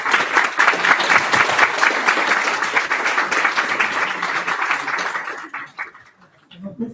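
An audience at the opening ceremony of a European student council conference claps loudly and steadily, the applause thinning and fading out near the end.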